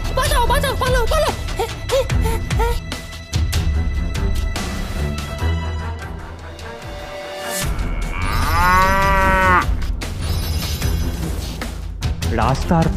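Cartoon cows mooing loudly in long drawn-out calls, several moos in sequence with thumps and a dramatic soundtrack, over voices talking.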